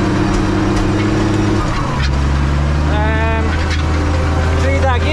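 A Zetor tractor pulling a 5 m harrow across a rain-soaked field, its engine a steady close drone with a shift in load partway through and someone talking over it.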